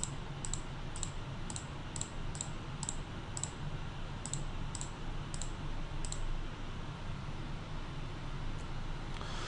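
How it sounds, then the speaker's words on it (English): Mouse left clicks from a computer user holding down the L key in CostX takeoff software, a steady run of crisp, quiet clicks at a brisk even pace in two bursts over a constant background hiss. "hold down the L key, it highlights the cable length, and then I can simply left click to capture the lengths"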